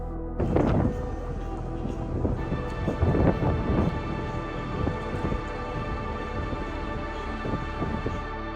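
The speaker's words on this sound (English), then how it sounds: "Okay, yeah, this is a storm." Thunder rumbles from a gale-driven thunderstorm at sea aboard the Norwegian Star cruise ship, with rain hissing steadily and several deep, loud thunder bursts rolling through, no talking.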